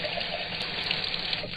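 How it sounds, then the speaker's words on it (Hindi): Water gushing steadily from a turned tap, a continuous close hiss and splash filling the whole moment without pause or voices. "बगल की दीवार पर एक यंत्र लगा हुआ था, जिसे घुमाने पर उसमें से पानी बहने लगता था।"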